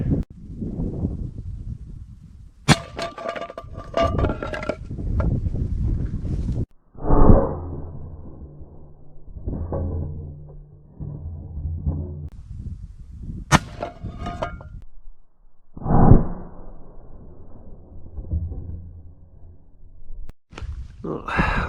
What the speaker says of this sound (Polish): ostatni strzał oddałem w wierzchołek hełmu